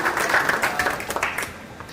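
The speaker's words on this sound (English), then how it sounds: "I think that deserves like a very good applause" Audience applause at a startup and innovation summit, a steady mid-sized patter of clapping with a few sharper individual claps, moderately close and continuing through the whole stretch.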